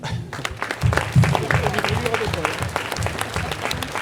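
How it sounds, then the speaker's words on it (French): A crowd at a Provençal Christmas crèche exhibition applauds the builders with steady, mid-volume clapping, and voices talk over the hands throughout. "On peut les applaudir."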